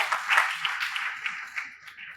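Light applause from an audience at an international affairs institute lecture in Lagos, a thin patter of scattered hand claps, moderately faint and tapering off within about two seconds.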